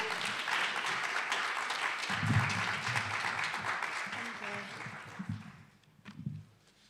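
Audience clapping at a poetry jam, a steady crackle of many hands that gradually thins and dies away, with movement and low voices near the end as a poet takes the stage.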